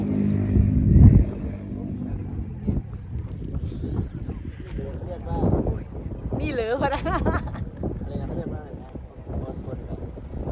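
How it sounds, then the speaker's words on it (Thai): Strong wind buffets a high mountain road at Phu Luang, rumbling low and steady beneath people talking throughout, with a louder gust near the start. "ลมแรงมาก"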